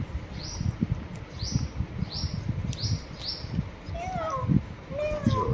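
A rapid series of thin, high mews from four newborn kittens, about five in a row, with quiet voices murmuring close by.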